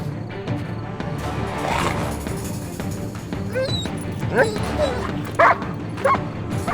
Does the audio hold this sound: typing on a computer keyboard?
no